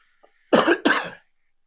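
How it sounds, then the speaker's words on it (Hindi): Two harsh, close coughs in quick succession, loud and isolated, with a tiny click just before. "माफ करिएगा, खांसी बहुत आ रही है"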